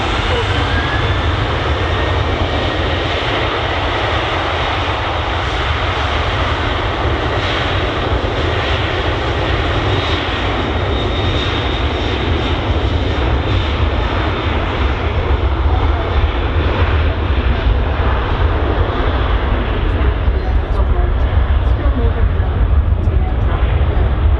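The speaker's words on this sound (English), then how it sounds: "obviously there's plenty of runway for you. And the aircraft goes to Tenerife." Airliner jet engines roar steadily and loudly at Manchester Airport as a plane departs for Tenerife. The sound is continuous and unbroken throughout, with commentary talking over it.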